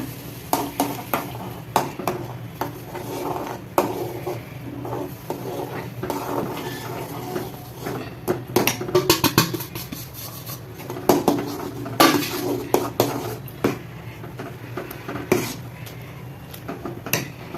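Metal utensils scrape and clink against a pot in quick, irregular strokes as flour is stirred into hot water for thiruvathirai kali, steady mixing sounds close by with no talking.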